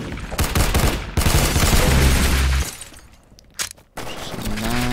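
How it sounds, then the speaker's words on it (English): Rapid gunfire from the Roblox shooter Arsenal, dense bursts of loud automatic shots cracking in quick succession with a short lull before the firing resumes, no talking over it. "I'm just gonna shoot people at the back here."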